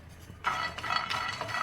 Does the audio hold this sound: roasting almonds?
yes